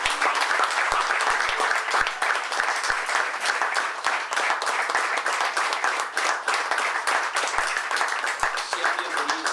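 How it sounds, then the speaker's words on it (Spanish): A church congregation at a Sunday service claps loudly and steadily for several seconds, a dense, even wash of hands with scattered voices mixed in. "¿Qué tal si le damos un fuerte aplauso?"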